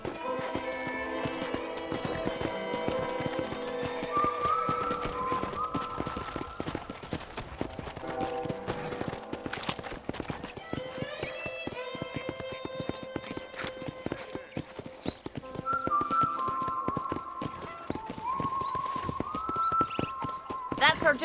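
Horse hooves clip-clopping steadily in Red Dead Redemption on PC, a continuous trotting rhythm under a music score, with people talking over it throughout.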